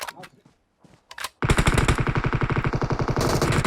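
Enemy gunfire in PUBG Mobile: after a few scattered quiet shots, a loud, close automatic burst erupts and rattles on in rapid, evenly spaced rounds until the end.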